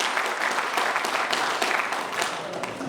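At a school reunion evening for former graduates, the gathered crowd greets a teacher with loud, continuous applause, many hands clapping in a dense, even wash with faint voices mixed underneath.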